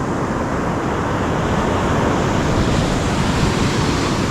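Ocean waves at high tide roar in a loud, dense, continuous wash of surf, close to the microphone with wind buffeting and no voices.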